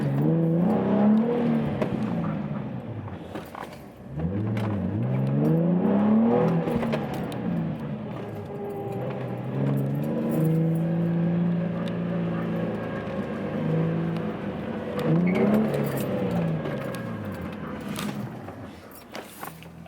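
Turbocharged K24-engined car accelerating on a test drive after a brake job, engine note rising and falling through several gear pulls with steady road and wind noise underneath.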